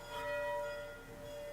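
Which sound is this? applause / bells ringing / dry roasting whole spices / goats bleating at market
bells ringing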